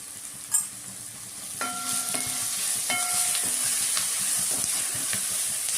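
Green chili with turmeric and coriander powder sautéing in a pan gives a steady, close sizzle, broken by scraping spoon strokes and a few light metallic clinks, with no talking.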